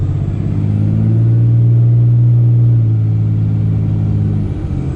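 A truck fitted with a Smarty performance tuner and aFe ShiftLogic transmission control driving off just after startup, a loud, steady low engine drone with a sustained rumbling hum close by, no voices.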